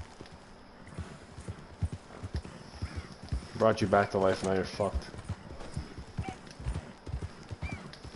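Horse hooves clip-clop steadily with a whinny midway in Red Dead Redemption 2, the horse close and fairly loud while someone talks over it.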